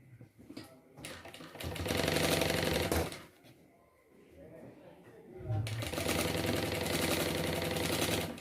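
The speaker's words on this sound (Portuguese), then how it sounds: "Eu vou costurar aqui embaixo pro meu bolso já ficar na posição que eu quero." A sewing machine stitches the bottom of a pocket on a fabric unisex travel bag, running in two steady bursts of dense, even stitching with a quiet pause between them and some talk alongside.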